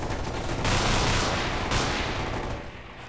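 Loud, sustained SMG fire in the Half-Life 2 mod Underhell, a dense continuous burst of rapid shots close up that tapers slightly toward the end, with no talking.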